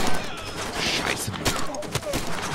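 Pistol shots fired in the video game Far Cry 2, several sharp cracks at irregular intervals over dense in-game combat noise, with a voice speaking in the background.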